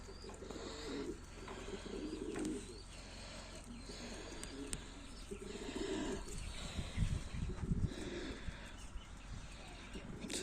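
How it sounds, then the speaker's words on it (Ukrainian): Young pigeon chicks on their first outing coo in low repeated murmurs, close by, with a voice and faint background noise alongside. "В общем, привчу голубенят."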